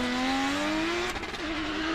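Drift car at a British Drift Championships qualifying round, its engine screaming at high revs with a rising pitch, a brief crackling bang mid-run, then holding a loud steady wail up the straight.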